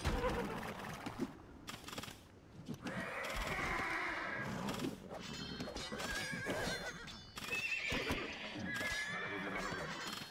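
Horses in Age of Empires II DE whinny and neigh repeatedly among clip-clopping hooves and other game effects, with someone talking in a few short spans.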